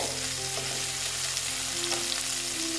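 Chopped onions fry in a hot pan with a little sugar for a Bengali bata fish jhal, giving a steady, close, continuous sizzle with faint crackles throughout and no talking.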